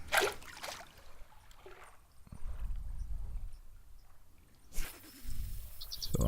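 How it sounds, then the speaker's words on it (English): Popper lure swishing through the water in the fishing game Fishing Planet, two short splashy swishes a few seconds apart, near and moderately loud, with a soft watery rumble in between and no talking. "You'll hear a sound like it's swishing through the water."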